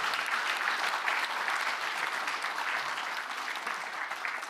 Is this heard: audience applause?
yes